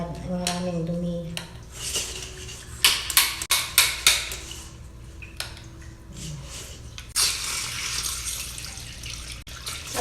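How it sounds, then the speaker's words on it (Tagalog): Dirty, sandy water gushes and splashes from a pipe opened on a vehicle, a continuous wet rush broken by sharp clanks and knocks of metal, with a faint hum underneath. "Ayan, medyo lumalabas-labas na yung tubig niya."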